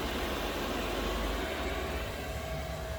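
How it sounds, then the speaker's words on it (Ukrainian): A diesel parking heater in a 2011 Renault Trafic van, engine off, hums with a steady, broadband mechanical roar continuously at low volume without pause. "Вебаста у нас вже на повну потужність працює"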